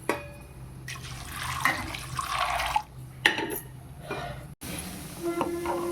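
Water is poured off soaked black-eyed peas at a kitchen sink before they go into a pressure cooker. Splashy bursts of draining water come in several separate pours, broken by short pauses and a metallic clink of the vessel.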